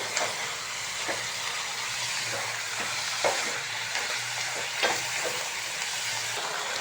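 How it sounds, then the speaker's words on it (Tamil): Spinach (palak) sautéing in a pan right after rock salt goes in gives a steady close sizzle and hiss, broken by occasional soft stirring clicks, with nobody talking. "உப்பு சேர்த்த பின்னாடி பார்த்தீங்கன்னா கீரை வந்து இன்னும் கொஞ்சம் ஸ்பீடாகவே வதங்க ஆரம்பிச்சிடும்"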